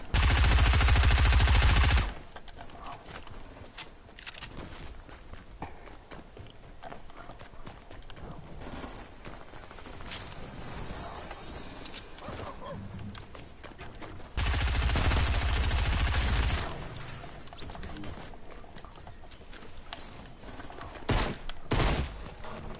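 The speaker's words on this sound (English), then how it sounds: "SMG." Fast SMG fire in Fortnite comes in two loud, dense bursts, each about two seconds long, with quieter game noise between them and a few sharper shots near the end.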